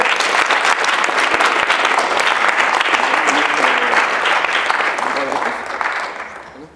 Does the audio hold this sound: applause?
yes